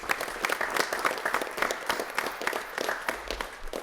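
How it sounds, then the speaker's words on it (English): An audience applauds the Bulldogs football team at a proclamation ceremony, steady clapping from a modest crowd lasting throughout, fairly soft and even with scattered sharper claps. "So can we give another round of applause to the Bulldogs?"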